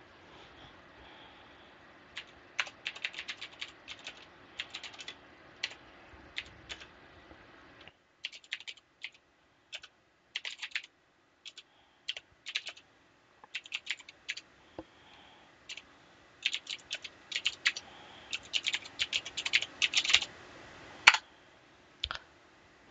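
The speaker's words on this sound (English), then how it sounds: "So type in the following command." Typing a command on a computer keyboard: bursts of quick, close key clicks in irregular runs separated by short pauses, growing denser toward the end, with no talking.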